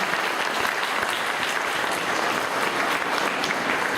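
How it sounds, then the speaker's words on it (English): A crowd claps steadily at a special education forum, a dense, even round of applause that holds at full strength from start to finish. "Give them all a round of applause because they really..."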